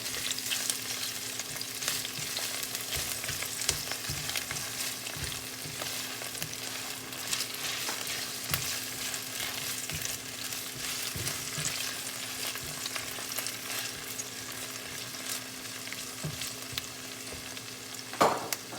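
Garlic and sweet pepper sauté in a hot pan with a steady, quiet sizzle and frequent scrapes and taps of the stirring spoon, continuous and close, with no talking.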